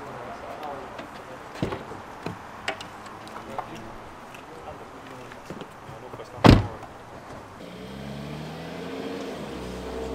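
At an AMG car event, a car door thumps shut after some faint ticking and handling noises. An engine then rumbles up as the car pulls away, with people's voices in the background.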